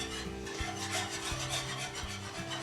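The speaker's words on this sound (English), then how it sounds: "So I'm gonna keep whisking while I add the flour." Whisk scraping steadily through butter and flour in a pan while making a roux, a close, continuous rasping rub with a regular stirring rhythm.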